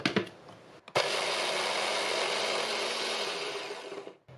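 A blender whirs loudly and steadily for about three seconds, grinding black pepper with a pinch of MSG, after a brief start and before cutting off abruptly.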